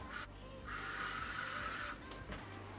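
Two bursts of bright hissing spray from a spray bottle misting hair before braiding, a short puff followed by a longer sustained mist, over faint low background hum.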